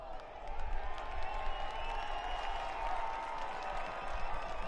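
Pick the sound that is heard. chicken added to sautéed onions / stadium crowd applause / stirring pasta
stadium crowd applause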